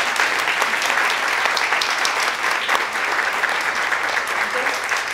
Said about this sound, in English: let's give a round of applause for our